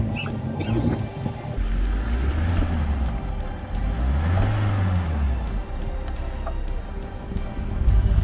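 A Mahindra Thar 4x4 drives on snow that has turned to ice. Its engine drones loud and close, swelling twice in rising and falling revs over a continuous rumble.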